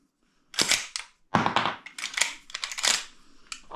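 Close up, a Golden Eagle 12-gauge airsoft Winchester lever-action shotgun fires, giving a quick series of sharp snaps and mechanical clacks as shells are cycled and ejected, with no talking.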